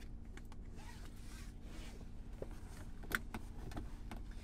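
A car seatbelt latch clicks shut once inside a parked car, a sharp click sitting over a steady low cabin hum with a few small rustles around it.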